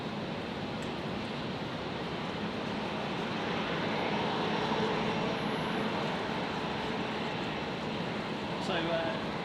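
Airliner rolling for takeoff on runway 01 left at Brisbane Airport, a steady broad engine roar that holds loud and even throughout, with radio voices heard over it.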